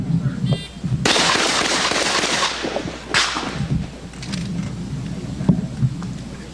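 Gunshots ring out from a shooter on a stage at a 1996 shooting competition at PASA Park. Loud cracks come in a quick string of rapid reports with echo, and a short voice is heard before the string.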